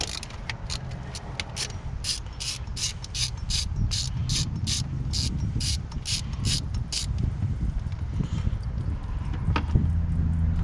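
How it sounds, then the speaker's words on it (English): Ratchet clicking rapidly in quick bursts while unbolting a 12 mm bolt on the starter of a 2004-2008 Acura TSX, close and crisp over a steady background hum, then slowing near the end. "We're gonna unbolt that. I believe it's a 12."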